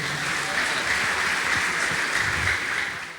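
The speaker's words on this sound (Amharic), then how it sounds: "አጨብጭቡላቸው" Sustained applause from a church congregation, a dense steady wash of clapping from many hands that holds for a few seconds and then eases slightly.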